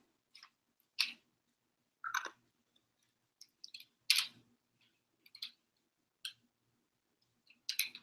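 Crunchy gluten-free pizza crust, crisped on a griddler, being chewed close to the microphone in sharp, irregular crunching bites separated by quiet pauses.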